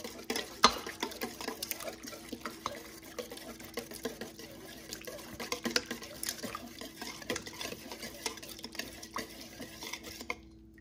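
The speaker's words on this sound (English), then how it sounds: "Then we'll whisk these together until the eggs disappear." Whisking eggs with cream-style corn for a corn bread batter, a steady run of quick, close scraping and clinking strokes against the bowl, irregular but continuous, with no talking.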